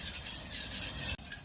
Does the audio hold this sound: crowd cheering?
no